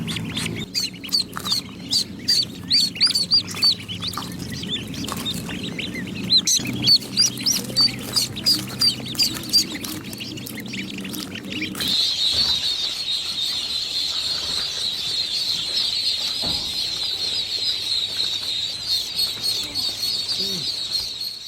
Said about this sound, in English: the first ducklings are finally beginning to hatch